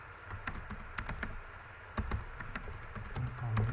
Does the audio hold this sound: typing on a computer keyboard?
yes